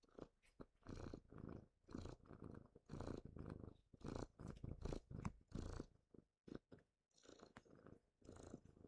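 Mickey the cat purrs close and loud, a rumbling motor rising and falling in steady rhythmic pulses with brief pauses between breaths.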